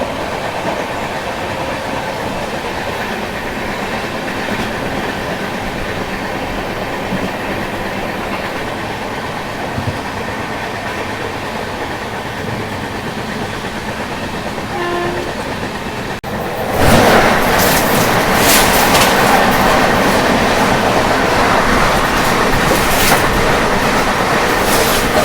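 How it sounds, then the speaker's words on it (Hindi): An Indian Duronto Express train rolls along beside Chilika Lake in Odisha as a steady rumble with clickety-clack, then a sudden louder roar as the Prashanti Express passes alongside on the next track, close and continuous, with no talk. "देख लीजिए प्रशांति एक्सप्रेस के साथ हमारी क्रॉसिंग, जो कि भुवनेश्वर से बेंगलोर के बीच में चलती है"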